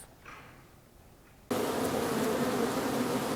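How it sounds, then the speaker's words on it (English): After a quiet start, a loud, dense buzzing of many bees suddenly fills the space and continues steadily, close and unbroken. "Bees are buzzing early this year"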